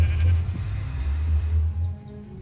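Sheep bleats in a Minecraft-style modpack game, several wavering animal calls in quick succession over steady low background hum, fairly close and clear, fading out near the end.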